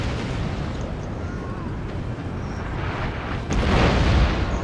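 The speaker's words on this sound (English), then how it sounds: "That's also the power in artillery, right?" Artillery fire in Napoleon: Total War, a steady roar of battlefield noise with cannon booms and gunfire, swelling into a heavier blast toward the end.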